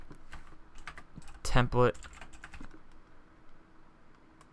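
Scattered clicks of fingers typing on a computer keyboard, soft and close, with a brief word spoken partway through and low room hiss behind.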